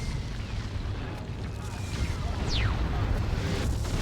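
A deep, rumbling orbital strike explosion in the Dawn of War 2 strategy game destroys a D-cannon, heard as a loud, sustained low boom over a busy battle soundscape.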